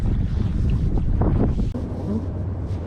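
Gusty wind buffets the microphone on a cold winter night while crappie fishing, a loud, rumbling low roar that swells and dips with the gusts.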